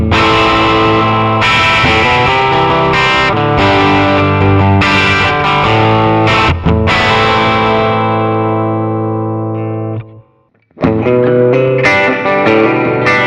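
Electric guitar run through a Mooer GE200 multi-effects unit with a built-in expression pedal, heavily distorted preset chords ringing with chorus and reverb, sustaining loudly for ten seconds, a brief drop to silence, then another loud burst.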